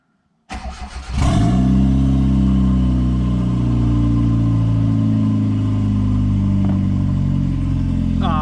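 A turbocharged Hyundai Getz with a past overheating problem cranks briefly and catches, then settles into a loud, steady idle with a deep, even rumble that continues close up.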